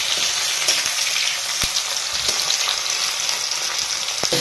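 Onions fry in hot oil with a loud, continuous close sizzle and a few sharp stirring clicks, with no talk.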